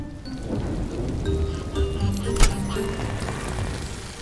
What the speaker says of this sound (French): Avec cette pluie, nous aurons besoin d'yeux dans le ciel pour trouver bébé camion.